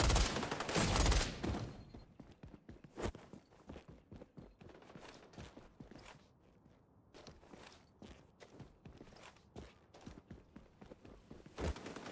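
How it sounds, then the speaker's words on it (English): Shotgun blasts from the online shooter XDefiant: a loud burst of shots up front, then scattered sharp reports and quick footsteps through a busy firefight, with another strong blast near the end. "that was another shotgun"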